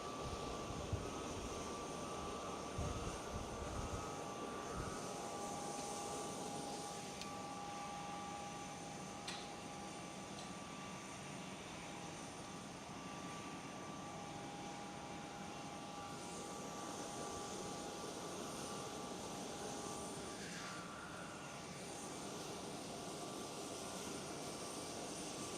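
A jet airliner on approach toward runway 36 at Schiphol Amsterdam, heard as a steady, distant roar of engines that holds evenly throughout, with no voices.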